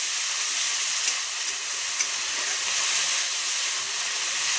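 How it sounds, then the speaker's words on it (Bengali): Onion and garlic go into hot oil with cumin and fry with a steady, bright, loud sizzle that holds constant throughout, with no voices. "তো এখন আমি পেঁয়াজ আর রসুনটা দিয়ে দেবো,"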